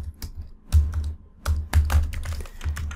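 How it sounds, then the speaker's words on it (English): Quick bursts of typing on a computer keyboard, several clustered key taps in irregular rhythm, close and clear with no talking. "I'm gonna type in summer and winter."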